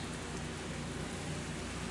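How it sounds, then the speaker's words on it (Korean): Steady rain falls in an even, dense hiss that holds at the same level without pause, with no voices or other sounds. "빗소리 들립니까?"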